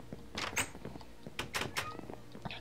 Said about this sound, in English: Oh, they're just playing with the doors.